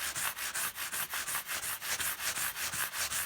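Worn sandpaper is rubbed up and down across guitar frets in a steady back-and-forth rasp, roughly six strokes per second, close and continuous with no talking.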